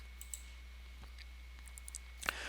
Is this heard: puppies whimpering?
no